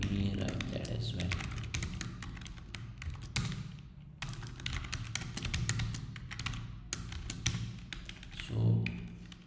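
Rapid keyboard typing while code is written for a Rust web scraper, with dense clicking bursts and short pauses; someone speaks at times alongside the keystrokes.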